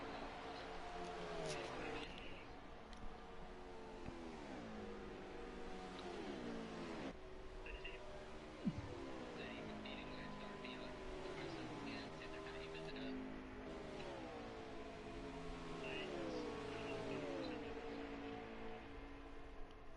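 Race cars lapping the track at Las Vegas, their engine notes repeatedly rising and falling as they pass, heard faint and distant under continuous commentary.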